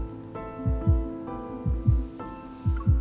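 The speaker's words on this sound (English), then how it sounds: "My heartbeat gradually drowns out every other sound." A steady double-thump heartbeat in the Love and Deepspace romance game pulses low and regular, lub-dub pairs repeating about every second over a soft sustained musical hum.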